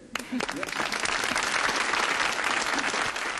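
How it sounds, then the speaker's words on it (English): A studio audience on a television show breaks into applause, a dense, even wash of many hands clapping that runs for a few seconds at moderate loudness. "That was the most undeserved round of applause I've ever heard"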